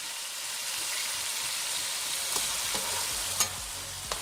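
Sliced potatoes frying in a softened tomato masala for chana pulao, a continuous close sizzle with a few sharp stirring clinks and scrapes toward the end.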